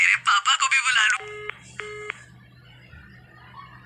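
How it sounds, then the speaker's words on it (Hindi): A phone call is cut off in anger: after a short burst of talk, several electronic tones sound from the handset, two short beeping patterns followed by a faint hum, fairly close and otherwise quiet. "श्रेया ने गुस्से में फोन काट दिया"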